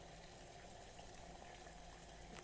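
Half a liter of water boils in a Fissler pot on the stove, a faint, steady bubbling hiss with no voices.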